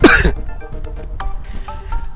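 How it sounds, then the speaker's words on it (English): One sharp cough sounds close up at the start, then fades into quieter room noise with faint clatter. "I'm going to cough."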